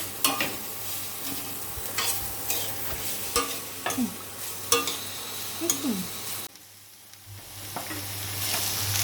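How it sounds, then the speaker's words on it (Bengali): Carrots with green peas fry in a pan, a sizzling hiss broken by repeated scraping stirs of a spatula, several distinct strokes, close up, then a brief quieter pause before the frying swells again. "গাজর ভাজছি"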